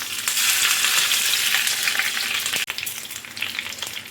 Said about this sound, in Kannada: ಎಣ್ಣೆ ಬಿಸಿಯಾಗಿದೆ. ಈಗ ಒಂದೊಂದೇ ಮೀನು ಹಾಕ್ಕೊಳ್ತಿದ್ದೀನಿ.